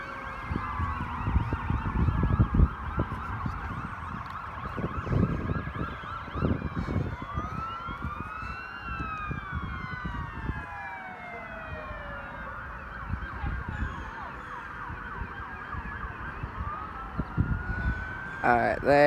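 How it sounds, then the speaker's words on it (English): Several Federal Q mechanical sirens wailing in a graduation parade, their winding rise-and-fall tones overlapping at moderate distance over street bustle and rumbling vehicles, with people talking nearby. "they have 3 Federal Q sirens in this parade this year"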